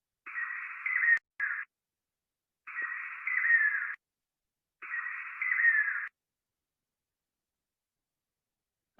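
Nightjar giving its common trisyllabic call, three separate band-limited bursts of a buzzy, warbling tone about a second long with even gaps between them, faint and recorded alone before trailing into silence.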